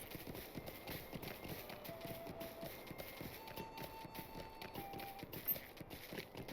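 Horse hooves trot in a steady clip-clop rhythm while riding through the Shire in Lord of the Rings Online, moderately close and continuous, with faint game ambience and soft tones in the background.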